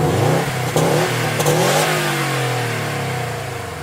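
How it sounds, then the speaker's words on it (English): A 2020 Subaru WRX STI S209 engine revs hard up close, rising and falling through several strong throttle blips before settling into a steady, slowly fading drone. "let's go ahead and take a listen to how this engine sounds"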